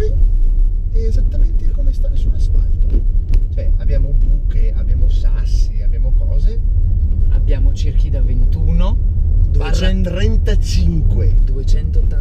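A Porsche Cayenne S with 285 and 315 tyres and both differentials locked drives along a bumpy gravel track, giving a steady loud engine and tyre rumble with crunching throughout, while someone talks over it the whole time.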